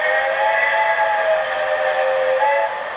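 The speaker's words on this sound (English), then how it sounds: "let me give her a nice long whistle." A Hornby TTS model steam locomotive sounds a long, steady whistle through its onboard speaker, a loud sustained chord-like tone that holds for about three seconds before easing off slightly.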